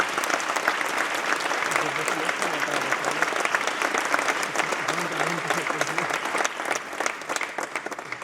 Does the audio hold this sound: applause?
yes